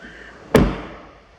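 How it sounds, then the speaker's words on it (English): A BMW i8 car door is shut with a single solid thud that dies away quickly, heard alone against a quiet background. "Let me just shut this door."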